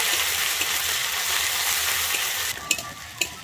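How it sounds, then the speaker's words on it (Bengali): Ground onion paste sizzles steadily in hot oil for a Bengali tel koi fish curry, a continuous close frying hiss with a couple of sharp clinks of a spoon near the end. "আমি পেঁয়াজটা দিয়ে কিন্তু একটুখানি ভেজে নেব"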